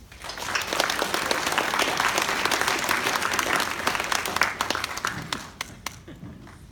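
Audience applause welcoming a speaker at a VegFest presentation on vegan cheese making: a full, steady round of clapping that holds for several seconds, then thins into scattered, separate claps before fading.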